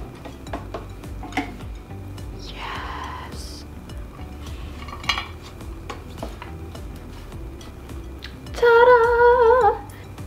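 A spoon stirring granola bar ingredients (oats) in a bowl, heard as faint, sparse scrapes and light clinks against the bowl in a quiet room, with a short louder tonal sound near the end.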